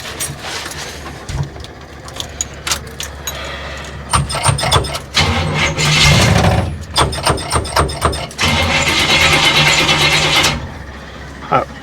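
A 1937 Ford pickup is cranked repeatedly in an attempt to start it, with bursts of rough mechanical churning, metallic clatter and rattling in uneven stretches, loud and close.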